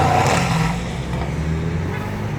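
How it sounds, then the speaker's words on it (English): A Mercedes used as a security car pulls out onto a wet road in the rain, a steady engine rumble with tire hiss on the wet surface, fairly close and continuous. "The security Mercedes is rolling out."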